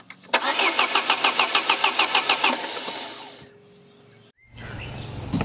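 A cheap old car's engine cranks with a rapid rhythmic chugging of about a dozen strokes, then stumbles briefly before catching into a rough idle, loud and close with no talk.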